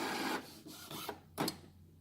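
An Epson WF-2760 printer initializes after being powered on, whirring and clicking with short mechanical bursts and a brief louder motor sweep near the end.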